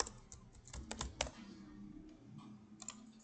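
JavaScript code being typed on a computer keyboard, with quick close key clicks in short bursts and brief pauses between them, fairly soft, with no speech.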